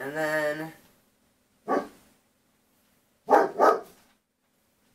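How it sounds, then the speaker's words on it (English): A person speaks briefly, then a dog barks once, followed by two quick barks in a row, fairly close and loud. "excuse my dog barking"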